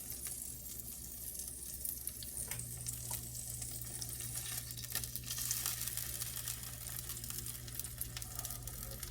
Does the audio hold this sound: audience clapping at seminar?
no